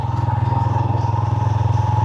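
A motorbike engine putters steadily and close on a busy Cebu City street, its low, even pulsing drone holding for a couple of seconds with a faint hum above it.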